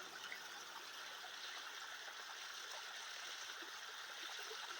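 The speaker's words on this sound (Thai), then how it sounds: "น้ำตกไหลเย็น" Steady, even rush of a forest waterfall and stream at Mon Hin Ngam, Ban Sa Phae, Chae Hom in Lampang, a continuous broadband wash of flowing water, soft and distant with no other sounds.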